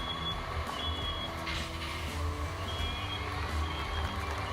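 Faint, high-pitched smoke alarm beeps in a residence hall come and go at irregular intervals over a steady low rumble.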